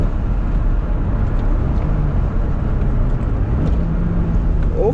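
Toyota Supra, a right-hand-drive JDM car, driving in third gear with a steady, loud engine drone and road rumble from inside the cabin, engine pitch holding fairly even with slight rises.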